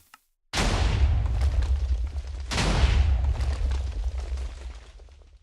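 Two heavy booming TNT blasts from a Minecraft redstone jet's missile system, about two seconds apart, each a loud close burst fading into a long rumbling tail.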